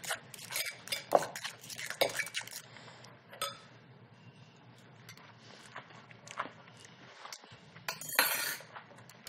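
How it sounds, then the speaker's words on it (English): Herbs being stirred into a Green Goddess dressing, with a utensil clinking and scraping against a bowl in irregular bursts, close and fairly loud, separated by quieter stretches and no talk. "Green Goddess will stir in all the herbs."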